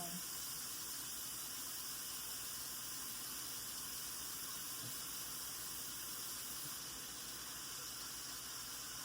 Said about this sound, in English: wash my hands, soap and water